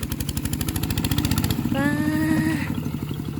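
A nearby engine chugs with a fast, even rhythm, then briefly drops lower as a whiny tonal sound rises over it.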